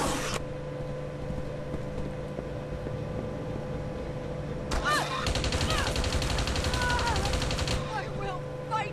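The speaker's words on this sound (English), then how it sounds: "let me take control of the turret" Turret gunfire from Deus Ex: Invisible War bursts in as a loud rapid volley in the second half, following a quieter stretch of game ambience and a brief electronic blip at the start.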